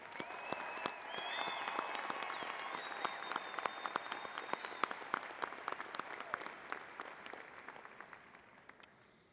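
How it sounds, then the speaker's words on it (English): A crowd at a graduation commencement claps steadily in sustained applause with scattered cheers and whoops early on, fading gradually toward the end. "a round of applause for all of the graduates"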